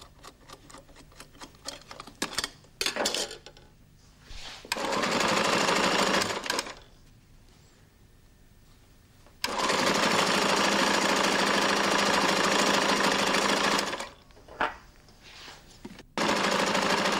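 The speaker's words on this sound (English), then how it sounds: "The Speedbinder sews about 3 to 4 metres of skirting strip in a minute" Flexorand Speedbinder binding machine sewing carpet skirting strips, running in two long, loud, steady bursts with quieter clicking and handling sounds between them.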